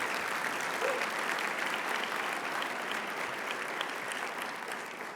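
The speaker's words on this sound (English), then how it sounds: "let's give him one more round of applause" Sustained audience applause at a regional State of the Region event, a thick, even roar of many hands clapping that holds steady and begins to fade toward the end.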